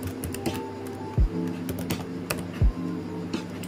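Keystrokes on a computer keyboard while code is entered for a programming assignment, a steady run of light, close clicks with two heavier thumps from the space bar or desk, no voices.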